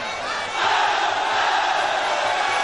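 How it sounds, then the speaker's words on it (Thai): A crowd cheers and shouts at a Muay Thai fight, a dense roar of voices that swells after a moment and holds steady, with a faint rhythmic thumping underneath. "เริ่มจะมีเสียงเชียร์มาอีกแล้วครับ"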